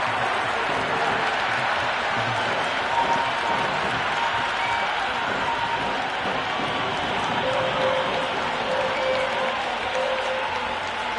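Video game cricket crowd in Cricket 26, a broad continuous roar of cheering and applause filling the stadium, sustained at an even level with faint tonal horns or chants drifting through.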